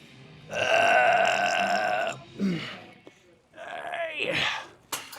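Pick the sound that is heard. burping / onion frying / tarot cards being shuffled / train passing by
burping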